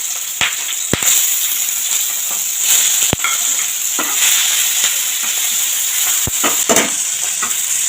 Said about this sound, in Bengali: তা প্রথমে মাছটা হালকা করে ভেজে নেব।